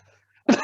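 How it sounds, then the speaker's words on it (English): A single short, sharp cough from a person in a medical discussion, close and fairly loud after a brief near-silence. "This is not COVID cough."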